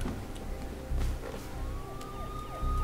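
A police siren wails in the video game Mirror's Edge, a rising electronic tone over a rumbling background with occasional low thuds, no speech.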